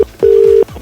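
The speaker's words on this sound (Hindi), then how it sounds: "भाई साहब को फोन लगाता हूँ मैं।" A telephone call is dialed on a handset: a brief tone, then a longer steady beep of about half a second, loud and close, with no talking.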